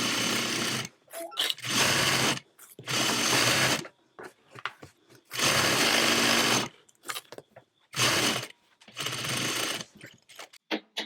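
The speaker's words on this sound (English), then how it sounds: "we'll go to the sewing machine and edge stitch just like we did before" A sewing machine edge stitches a tote bag in repeated loud bursts of rapid mechanical whirring, separated by short pauses and faint clicks.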